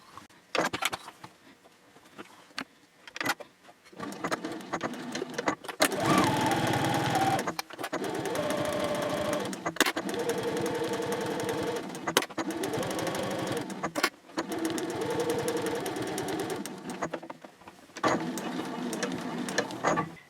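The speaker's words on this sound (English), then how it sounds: "you'll flip it over and stitch the other side in exactly the same way" A sewing machine runs in several bursts of steady, fast stitching with short pauses between them, sewing the seams of a fabric basket's lining and exterior.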